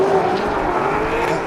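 Drift cars at Hampton Downs in a D1NZ Pro-Championship round sweep through the second turn, engines roaring steadily and loudly from mid-distance with a dense, continuous blare and no break in the noise.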